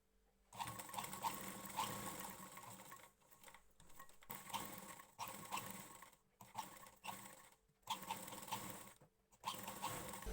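A sewing machine stitches a blouse onto its lining in several bursts of rapid mechanical whirring, separated by brief pauses, close and steady with no speech.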